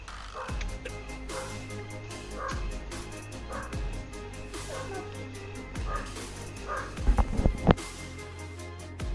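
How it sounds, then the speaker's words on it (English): Dog vocalizations, some yips and whimpery barks in a busy room with background clatter, a cluster of sharper sounds near the end. "Is that a dog I hear barking?"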